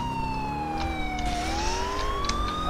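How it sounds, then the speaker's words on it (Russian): A police car siren in Grand Theft Auto IV wails loudly and continuously, its pitch sliding down then rising again, with traffic rumble beneath and no voices. "Да, выключим сирену."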